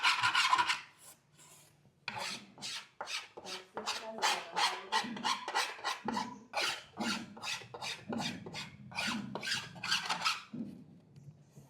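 Edge banding tape being trimmed down by hand along the edge of a wooden cabinet's recessed pull handle, a long series of rhythmic rasping strokes, close and steady, each a short scraping pass.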